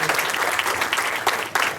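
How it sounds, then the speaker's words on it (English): Audience applause at a chamber of commerce business after-hours event honoring an outgoing leader, dense steady clapping from a room of people filling the short stretch, close and fairly loud. "say it is well-deserved to give Kathy another round of applause for all, as Linda said, she has accomplished"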